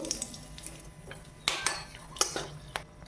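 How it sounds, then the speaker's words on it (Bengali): Cardamom, cloves and cinnamon hitting hot oil in a pan after frying potatoes for a chicken curry, with soft sizzling under scattered metallic clinks of a utensil against the pot. "তেলেতে এলাচ লবঙ্গ দারচিনি দিয়ে দেবো"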